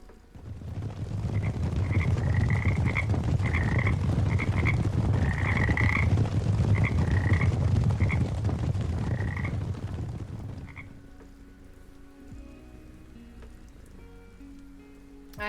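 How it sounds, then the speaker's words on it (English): Frogs croak in a dense chorus of repeated bursts for about ten seconds over a wash of rain-like noise, then the chorus cuts off abruptly, leaving quiet tonal background. "It's a bird? It's a plane? No! It's frogs!"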